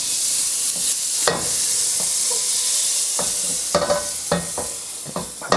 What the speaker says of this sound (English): Okay, here we go. So, sizzle, sizzle.